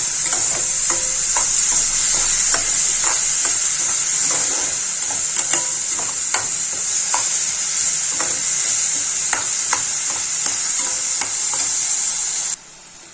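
Soya masala sizzles and fries steadily in a pan, with a constant bright hiss and regular scraping clicks of a spoon stirring it throughout, close and fairly loud, with no talking.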